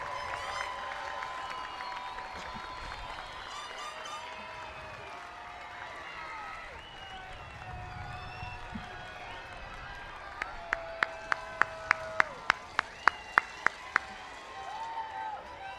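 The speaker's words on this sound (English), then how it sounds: "give them a round of applause to thank them for their support, sacrifice, and encouragement" Graduates at a college graduation ceremony applaud their families amid a lively crowd of murmuring and raised voices, with scattered sharp, distinct claps growing more frequent toward the end.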